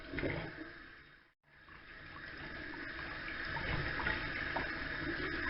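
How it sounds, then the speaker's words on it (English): Running tap water pours steadily as a remote control is rinsed, a close, continuous splashing rush broken by one brief pause. "Let's rinse it off now."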